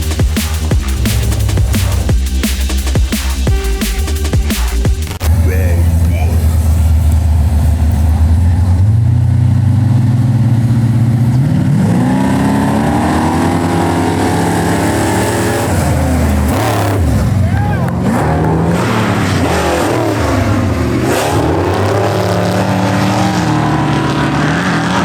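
A 1980 Chevy Blazer prerunner and an immaculate 1977 small-block Ford truck race down a dirt track. Their loud, close engines roar and rev continuously, with the pitch rising and falling as they accelerate, and no talking is heard.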